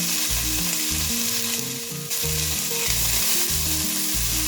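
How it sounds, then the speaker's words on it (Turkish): Loud, continuous sizzling and crackling of 250 grams of suet frying in a pot, close up and unbroken, with no voices. "ben 250 gram iç yağımı tencereme boşaltıyorum"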